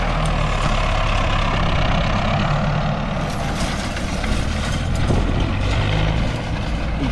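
Four-cylinder turbo tractor engine running during grass baling work, a loud steady low rumble held continuously throughout with no talking.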